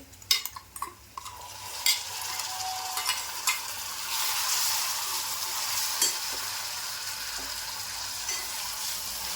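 Masala paste sautés with softened golden onions for Malvani sukha chicken. Several sharp spatula clacks and scrapes come first, then a steady, close frying sizzle takes over, broken by an occasional stir.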